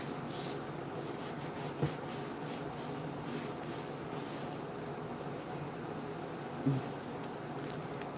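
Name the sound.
thumbnail rubbing a bubble out of a craft surface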